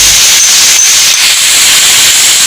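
Potatoes dropped into hot oil for a Bengali shorputi fish curry give a loud, steady broadband sizzle and hiss that lasts throughout, with no talk.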